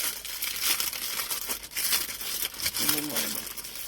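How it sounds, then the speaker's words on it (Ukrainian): A Tesla OBD2 diagnostic adapter package is unpacked up close, with bursts of crinkling plastic and paper tearing, and a voice briefly joins near the end. "Так, ось хочу вам показати, розпаковую."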